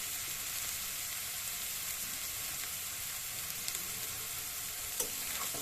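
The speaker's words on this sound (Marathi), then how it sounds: "कढीपत्ता करपून आहे म्हणून आपण आत्ता टाकला" Curry leaves sizzle in hot oil while leftover roti poha is made: a continuous bright, hissing crackle at even loudness, close up, with a couple of soft clinks and no talk.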